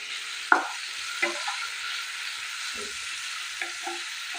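Onions frying in a pan, a steady soft sizzle with a few stirring knocks and scrapes at intervals, close and fairly quiet, no talking.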